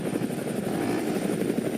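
A helicopter's rotor thumps steadily with a loud engine drone in the video game GTA Nepal, constant and close, with no voices over it.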